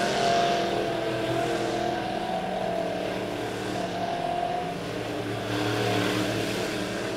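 Midwest modified race cars circle the dirt oval at Lebanon Midway Speedway, their engines droning together in a continuous loud roar that swells and dips slightly as the pack runs laps.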